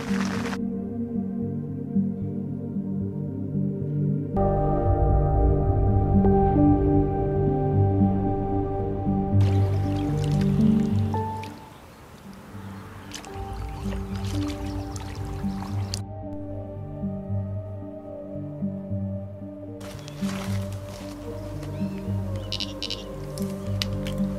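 Rain from a passing shower drips and patters steadily onto a fishing shelter on a lake bank, a close, continuous wet tapping that runs throughout over a low, steady background.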